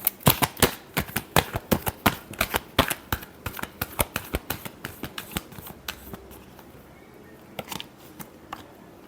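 Tarot cards are shuffled close up in a rapid run of crisp, papery riffling flicks that thin out into softer, sparser taps toward the end, with no talking.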